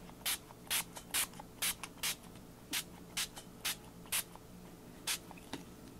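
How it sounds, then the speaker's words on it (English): Squeezed Orange ink is sprayed onto a stencil in a dozen short, sharp spritzes, each a crisp hiss from a close pump bottle, coming in an irregular rhythm over a quiet room. "So now I can take my spray. I'm using Dilution Squeezed Orange."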